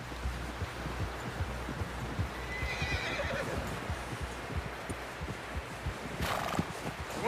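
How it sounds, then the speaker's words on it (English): A horse in the Red Dead Redemption 2 video game whinnies and snorts over steady clip-clopping hooves, with faint rustling in the background and no clear speech. "Someone help John down off this horse"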